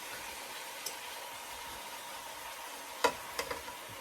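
Zucchini sizzling in butter and minced garlic gives a soft, steady frying hiss, broken by a few sharp utensil clinks from stirring near the end.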